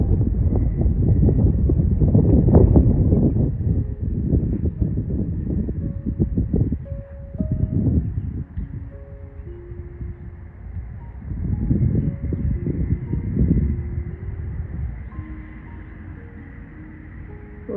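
Strong wind buffeting the microphone in a breezy summer garden, a loud, low rumbling roar in gusts that swell and ease across the whole stretch, with faint birdsong behind it.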